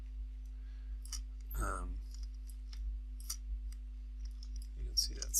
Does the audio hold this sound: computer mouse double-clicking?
yes